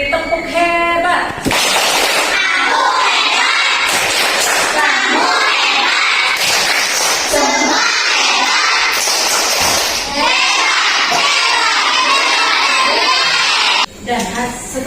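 Schoolchildren in a classroom perform a rhythmic 'tepuk hebat' clapping cheer, loud and close, with chanted voices and shouting mixed over bursts of clapping that stop abruptly near the end.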